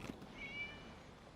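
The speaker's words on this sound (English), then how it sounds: "It was just a cat." In the video game Genshin Impact, a cat lets out one soft, thin meow, faint and brief over a quiet background hum.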